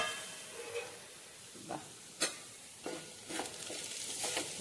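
Chopped ivy gourd frying in a pan over low heat, a soft steady sizzle with occasional stirring scrapes and clinks.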